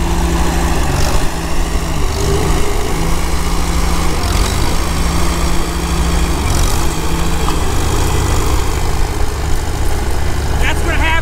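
A tractor engine drones steadily and loudly at a spring plow day while the plow turns sod, with a rhythmic low chug and fluctuating tone throughout, and faint voices underneath.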